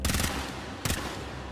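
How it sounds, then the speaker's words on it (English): Weapon fire aimed at a hive in the shooter game Warframe: a rapid burst of shots at the start, a brief pause, then a second short loud burst near the end, set over a steady game ambience. "Destroy it with weapon fire"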